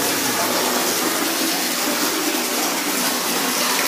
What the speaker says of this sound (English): Yeah, the water's pouring into that holder.